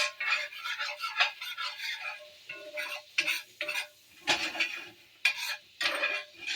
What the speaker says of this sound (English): Get all those little goodies out of the bottom of the pan.